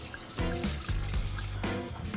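Rinse water sloshes and pours out of a container of rice in a few short splashing bursts, close by and fairly quiet.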